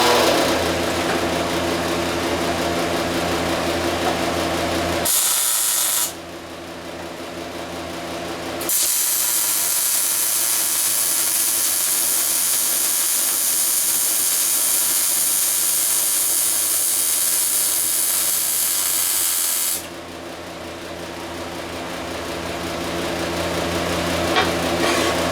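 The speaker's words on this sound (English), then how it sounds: "Got to turn the fan on." A workshop fan blows a steady, loud broadband rush with a low hum, cutting out briefly and returning for a long stretch, then dropping in level near the end; no talking.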